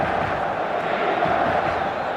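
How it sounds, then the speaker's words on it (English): Stadium crowd in the football video game eFootball: a steady, dense roar of many voices with no distinct breaks, moderately loud throughout. "The stadium is full of noise and energy."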